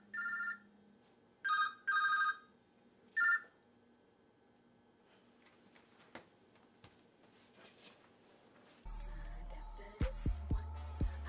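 A telephone rings in repeated bursts, four loud electronic ring pulses over the first few seconds, followed by quiet room sound and then clattering handling noises near the end.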